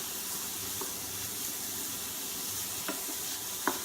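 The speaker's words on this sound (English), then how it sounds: "So you just want to keep the cauliflower moving in the pan." Cauliflower rice sizzles and fries in a hot pan, a constant close hiss broken by occasional scraping stirs and a couple of sharper clacks near the end.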